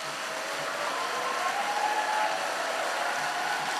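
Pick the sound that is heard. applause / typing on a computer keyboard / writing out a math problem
applause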